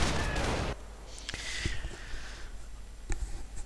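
Rifle gunfire in a World War II strategy game battle with riflemen and Panzer Grenadiers, a dense noisy burst of shooting at first, then scattered distant cracks and pops over a rumbling battle backdrop.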